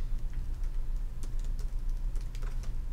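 Rapid typing on a computer keyboard, a close flurry of uneven key clicks and taps with no talking.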